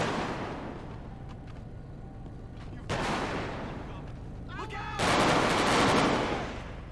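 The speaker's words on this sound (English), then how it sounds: "Bro, them shots so loud." Gunshots in the video game GTA 5 with a police mod, loud sharp reports cutting in twice over a constant noisy street-fight background.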